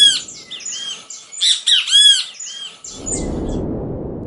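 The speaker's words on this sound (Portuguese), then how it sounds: "Pensa um bem-te-vi." A great kiskadee (bem-te-vi) calls in a busy run of bright squawking, chirping notes for about three seconds, then falls silent as a steady low rushing noise takes over.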